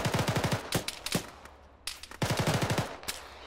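Bursts of rapid automatic gunfire in a military shooter game, several short volleys of close, sharp shots separated by brief pauses.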